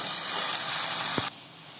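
Chopped vegetables for a veg roll hitting a hot pan of sautéed onions, a loud steady sizzling hiss that cuts off abruptly partway through, leaving quieter background.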